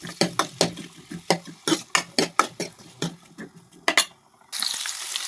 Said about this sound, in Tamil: வெங்காயத்தில் பச்சை வாடை போகிற அளவுக்கு நல்லா இந்த மாதிரி வசக்குங்க